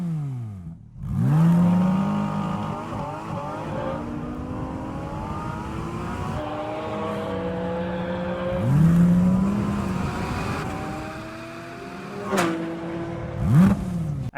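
Porsche Cayman GT4 RS engine revving hard through several rising gear pulls with sharp shifts between them, one pass swelling close then fading, mostly alone without talk.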